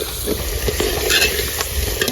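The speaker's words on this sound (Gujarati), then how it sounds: "આપણે મિક્સ કરી રહ્યા છીએ." Green pigeon pea and tomato curry being stirred in a pan, a close, busy scraping and shuffling over a constant frying sizzle, with no talking.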